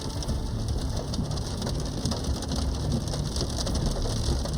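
Heavy rain pours steadily during a tornado storm, a dense, continuous wash of noise with no voices, filling the scene from start to finish.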